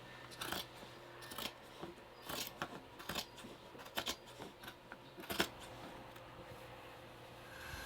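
Scissors cut a curtain to size inside an RV: a run of sharp, close snips in uneven rhythm that stops near the end, leaving quiet room noise.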